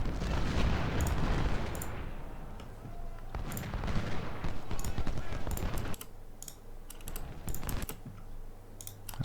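Cannons fire in an Ultimate General: Civil War battle near Richmond, sounding as booming bursts over a dense, continuous layer of game battle noise, with sharp clicks throughout.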